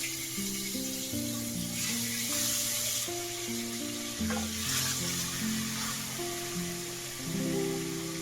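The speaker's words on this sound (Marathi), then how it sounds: "वाम टाकूया तेलात ते चांगले फ्राय करून घेऊया" Vaam eel fish frying in hot oil, an even, close sizzle that swells and fades slightly, with a low steady hum running underneath.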